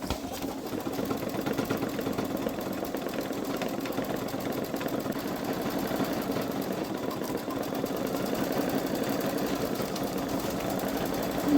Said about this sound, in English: So I'll just go ahead and stitch the next step. I'm going to do a satin stitch.